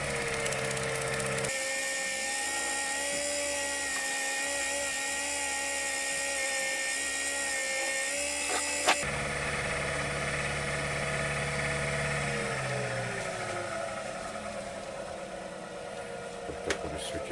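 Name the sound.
wood lathe spinning at higher speed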